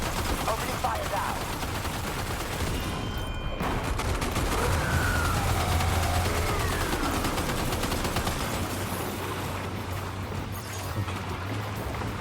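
Sustained rapid gunfire fills the Death Stranding 2 battle scene, dense bursts rolling on steadily with a low droning tone beneath, loud and continuous throughout.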